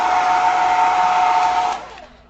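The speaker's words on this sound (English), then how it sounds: "Where goes my hair dryer?" A hair dryer blowing to dry paint on a gel print, a loud steady whir close by that winds down and cuts off near the end.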